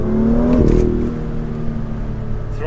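A BMW M2 engine revs, the note climbing to a sharp peak, then dropping back to a lower, rumbling idle with a few faint blips, heard close and without talk.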